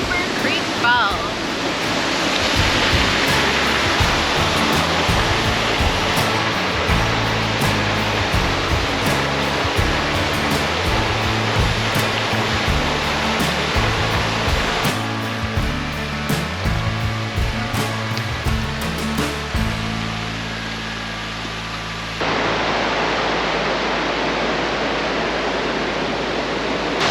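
Cooper Creek Falls, a 32-foot waterfall along the Lewis River Trail, pours in a continuous loud rushing roar close by, with gusts of wind buffeting the microphone throughout.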